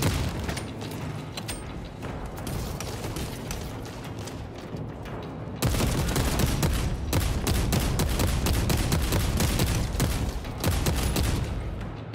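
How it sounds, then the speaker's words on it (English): Dense, continuous bolt rifle gunfire in Warhammer 40K: Space Marine II, a steady roar of rapid shots and booms that grows louder and heavier partway through, with no voices. "Dude, the bolt rifle is so awesome."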